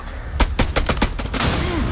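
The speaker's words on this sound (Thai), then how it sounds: "นี่ระเบิดอีก" In the horror video game House of Ashes, a rapid string of about eight sharp, loud blasts rings out in quick succession, followed by a rumbling tail.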